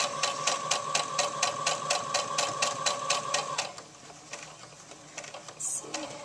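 A sewing machine stitches a doll-sized tank top in a fast, even burst of rapid mechanical taps for a few seconds, then stops, leaving faint handling noises and a soft voice.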